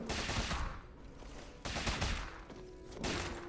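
Fireworks pop in bursts in the background, a few muffled booms and crackles spaced out over a few seconds, somewhat distant and faint.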